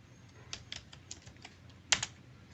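Keys tapped on a computer keyboard while a web page's HTML is edited, a short run of light, close clicks ending in one louder keystroke, with no talk.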